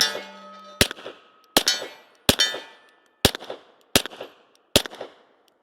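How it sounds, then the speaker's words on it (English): Six suppressed shots from a Gemtec Lunar 9 pistol suppressor striking a steel target, each a sharp crack followed by a ringing metallic clang, spaced under a second apart, no voices. "Let's go ahead and take a few shots on the steel."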